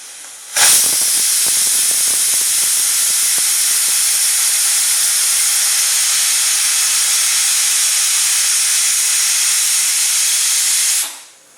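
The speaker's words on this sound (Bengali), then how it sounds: "হাই ফ্লেমে এটাকে একটা সিটি দেব" Pressure cooker on high flame releasing a long, loud whistle of hissing steam, rising abruptly and holding steady for about ten seconds before cutting off sharply, with no talking over it.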